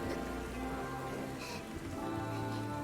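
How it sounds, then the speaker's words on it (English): Steady rain pours down on surfaces in an anime scene, a dense, constant patter without pause, with faint tonal background music underneath. "It's all rainy."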